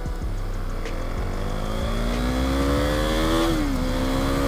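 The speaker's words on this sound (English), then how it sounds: "this single is actually really nice. It's got a nice little pleasant growl to it." KTM 390 Duke single-cylinder motorcycle engine at full throttle, its loud, close growl climbing steadily in pitch through a rev, then dropping briefly before rising again.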